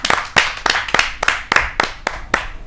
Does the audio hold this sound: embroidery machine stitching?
no